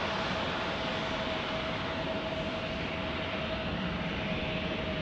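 A JetBlue airliner lands in a crosswind at San Diego airport, producing an even, continuous engine rush heard alone from a moderate distance.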